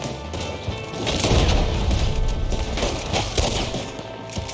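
Gunfire during a first-time playthrough of a video game hunt: a continuous, dense volley of rapid shots and booms layered over constant background noise, fairly loud and steady throughout, with no voices.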